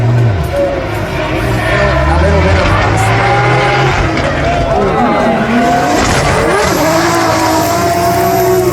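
A drift car on its qualifying run at Drift Masters Riga, its engine roaring loud and close with rising and falling revs and tire squeal, under fast excited commentary.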